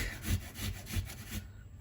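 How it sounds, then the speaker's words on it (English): A Parmesan grater scrapes food for a spicy chickpea curry, giving a few close rhythmic rasping strokes back and forth before trailing off. "So grate that sucker real quick."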